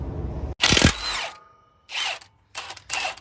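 An impact tool bursts in several short, loud zaps as it loosens the bottom bolt of a Bilstein 6112 shock absorber on a third-generation Toyota Tacoma, with clear pauses between bursts and no voices.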